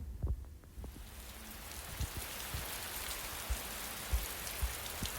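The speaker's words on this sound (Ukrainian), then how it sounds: "це звук дощика." Steady rain falling, a constant hiss with occasional soft thuds of drops hitting a nearby surface.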